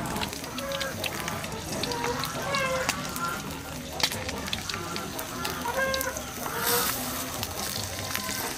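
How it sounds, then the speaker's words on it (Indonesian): Chicken clucking in short bursts amid kitchen clatter and sizzling, with people talking nearby. "Ayam."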